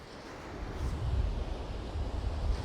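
Steady wind gusting across an exposed stretch of the Holderness coast at Easington, a continuous low roar and buffeting on the microphone that swells slightly midway, with no voices.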